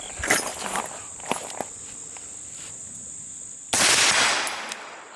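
A rifle firing 77-grain rounds through an IWI silencer at a steel target, a few muted thumps followed by a louder, longer metallic burst near the end, over a steady chorus of crickets outdoors.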